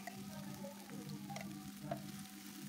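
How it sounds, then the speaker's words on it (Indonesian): Ground chili and shallot paste stir-fries in hot oil with a steady close sizzle. Light scraping stirs come through at intervals, and no one speaks. "Diosreng-osreng-osreng sampai mateng,"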